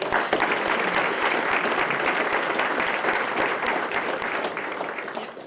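An audience at a police department promotion ceremony applauds a newly promoted officer, a sustained wash of many hands clapping that tapers slightly toward the end.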